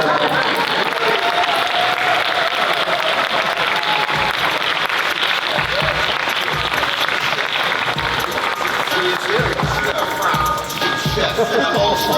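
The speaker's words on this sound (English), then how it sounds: "let's give another round of applause" A crowd applauds steadily throughout, a dense continuous clapping with scattered voices mixed in.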